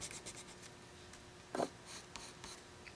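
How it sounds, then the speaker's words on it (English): A colored pencil shading one side of a drawn shoe on paper, soft scratchy strokes in short bursts with a few louder scrapes, close and quiet with no talk. "Just by shading this side of the shoe with my color pencil."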